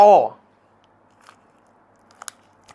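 A bite into a chewy sweet potato snack (man nueb), with a few soft, faint crunching chews after a short spoken word.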